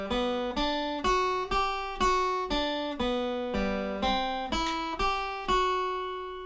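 An acoustic guitar picks the bell melody from the opening of the song as a series of about a dozen clear single notes, each ringing and decaying at an even pace, with no voice.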